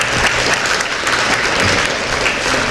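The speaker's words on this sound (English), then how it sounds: "Can I get another round of applause for the council members?" Steady, dense clapping from a large crowd at a graduation and scholarship ceremony, sustained and loud throughout with no voices standing out.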